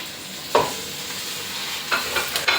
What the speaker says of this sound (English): Mix well and cook until the raw smell of the peas is gone.